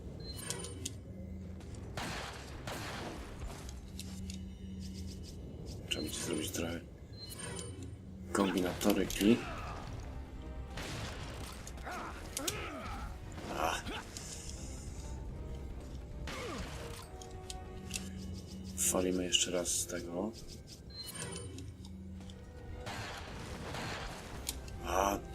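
Sharp gunfire bursts in Resident Evil 4 crack out several times over a steady drone of in-game noise, with voices talking through much of it.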